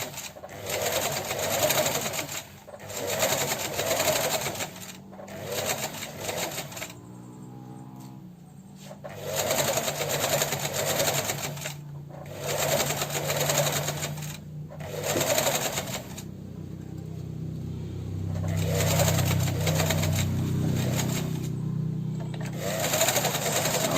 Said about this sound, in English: now what I'm doing is just sewing in the side seams